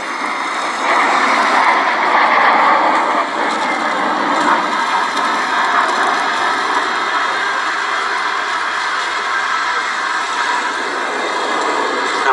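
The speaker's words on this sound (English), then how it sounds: "the T-7, like we see here, the standard jet trainer in the RAF's advanced flying schools" Gloster Meteor T.7 jet trainer flying at an air show at Duxford, heard as a steady, loud broadband jet roar that holds throughout with no talk.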